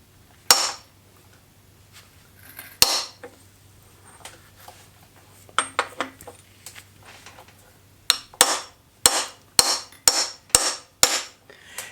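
Sharp metallic hammer blows on a 32mm impact socket, driving old bearings out of a stripped engine block, come first as two lone strikes, then a quick run of six or seven loud regular hits, close and with no voice.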